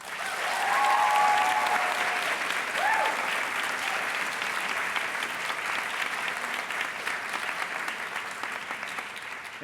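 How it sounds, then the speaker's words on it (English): Graduates at a 2022 Fine Arts Center commencement applaud their parents and families, a broad, sustained round of clapping from a large audience in a hall, swelling early and then holding steady, with faint voices. "I ask now that our FAC graduates give their parents and family members a round of applause"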